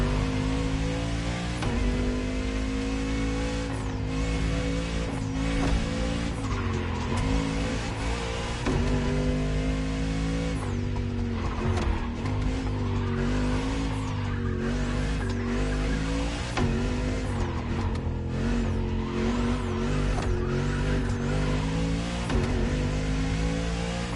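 A French luxury hypercar with four-figure horsepower revs in the racing game Motorfest, a loud, sustained engine drone with rising and falling pitch sweeps and gear changes running throughout, alone without talk.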